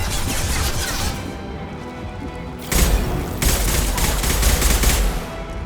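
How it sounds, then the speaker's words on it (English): Heavy high-impact gunfire in the video game Mass Effect 2, a loud broadband burst that then swells again into dense, crashing shots with rumbling low end and no talk. "Firing a high-impact shot."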